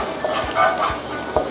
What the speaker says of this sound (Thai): ผัดให้กระเทียมมีกลิ่นหอมนะคะ